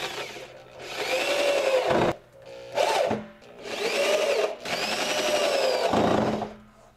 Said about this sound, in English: we're going to screw it down through the mesh of the gutter screen